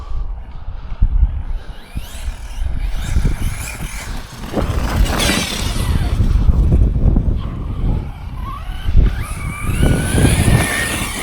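An Arrma Notorious 6S BLX radio-controlled car drives at about quarter throttle, its electric motor whining and surging loudly in rising and falling bursts with tyre scrabble, alone without talk.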